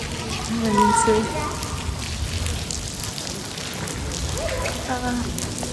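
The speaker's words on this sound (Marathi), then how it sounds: "चोय पावस पडटा बरो" Rain falls steadily outside beside a parked car in Oman, a constant broadband hiss with voices drifting in and out.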